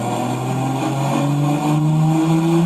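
A car on a dyno during a full-power pull, its engine revving steadily higher in one continuous rising whine and roar, loud and close, with no talking.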